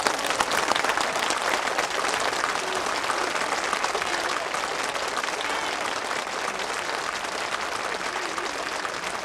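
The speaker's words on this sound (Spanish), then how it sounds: "¡Todos aplaudan!" A church congregation applauds together, an even and sustained patter of many hands clapping for over nine seconds at moderate volume with no talk.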